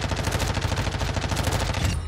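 Rapid automatic gunfire from a first-person shooter video game, a dense unbroken stream of shots in quick succession, fairly quiet and steady before cutting off near the end.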